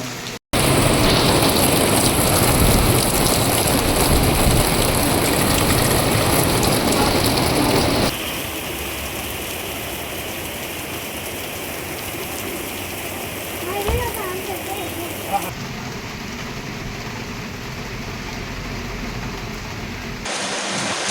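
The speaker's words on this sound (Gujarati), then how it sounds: "કમોસમી વરસાદને કારણે રસ્તાઓ ઉપર પાણી વહેતું થઈ ગયું હતું" Unseasonal rain pours onto flooded city streets in Bhavnagar, a dense steady hiss that is loud at first, then softer and more distant, with a brief thud partway through.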